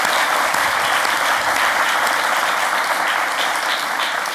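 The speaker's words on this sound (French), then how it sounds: "Ça s'applaudit quand même." A seated audience at a talk show claps in sustained, dense applause, loud and close, holding steady without voices rising above it.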